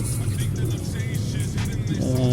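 A ZAZ Tavria with a MeMZ engine whose idle speed wanders drives along, its engine a steady low drone heard from inside the car, with a voice-like tone briefly near the end.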